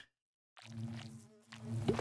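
Bees buzz in the Minecraft modpack FTB Evolution, a low steady drone that starts suddenly after a moment of silence and holds on, close and fairly loud.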